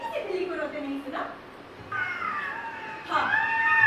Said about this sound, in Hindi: मैंने अभी अभी हजारों बिल्लियों को रोते सुना है।